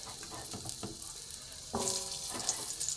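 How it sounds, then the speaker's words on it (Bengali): Small diced potatoes fry in a little oil in a very hot pan, sizzling steadily and crackling, with a brief metallic scrape of stirring partway through. "আলুটা প্রথমে আমি ভালো করে লাল করে ভেজে নেব।"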